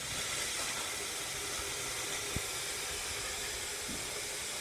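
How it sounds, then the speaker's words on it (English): A Monster handheld steamer blows a steady, loud hiss of steam that runs unbroken through the whole stretch, with a single brief click partway in. "The steam is coming out. Very powerful, and it cleans very well."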